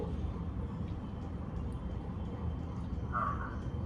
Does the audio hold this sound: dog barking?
no